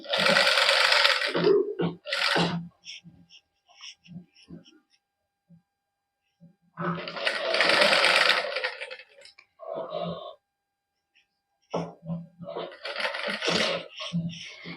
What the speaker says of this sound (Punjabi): ਫਿਰ ਉੱਪਰ ਸਲਾਈ ਲਾ ਦਿਓ